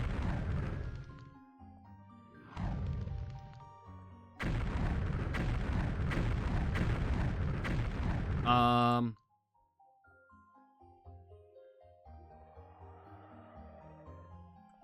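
A blast spell from the Daggerfall Unity video game goes off as a loud, roaring explosion that sustains for several seconds before cutting off sharply, with smaller bursts before it and a quieter rumbling tail after.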